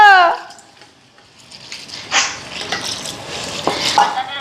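Dal (lentils) cooking in a pot, a soft sizzle and bubbling with scraping stirs and light clinks of a utensil against the pot, starting after a brief voice.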